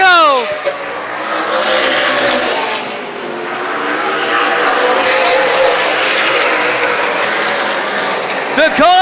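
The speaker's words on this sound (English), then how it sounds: "Charleston and Carlson battle for the lead." Race cars roaring around Dixie Motor Speedway in a 2014 Main Event Racing Series feature, engines loud and sustained with passes sweeping by, under continuous race commentary.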